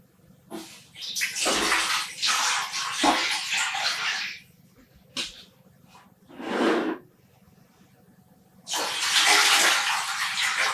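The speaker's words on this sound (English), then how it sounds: "And we are adding the water." Water poured from a tap into a pan for dyeing yarn, coming in several separate gushing bursts with quiet gaps between them, close and fairly loud.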